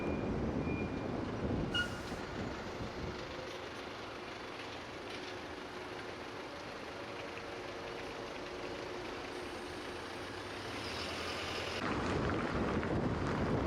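Steady road rumble and wind noise from inside a car driving through Yekaterinburg in summer, a low continuous drone that swells slightly at the end, with no talking.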